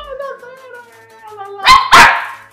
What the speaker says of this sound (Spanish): No le ladres a esa gente.